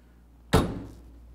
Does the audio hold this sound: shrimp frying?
no